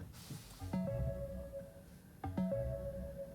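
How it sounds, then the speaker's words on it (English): Ford Mustang Mach-E startup chime, two soft electronic tones rising through a few steps into a sustained note, played twice over a quiet cabin hush. "It's like the Ford chime, but with like some electric sound to it."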